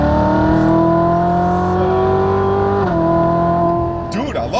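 A sports car's engine revs hard under steady acceleration, its droning pitch dropping at a gear shift partway through before climbing again, with a brief squeal-like sweep near the end; the engine stays loud and close throughout.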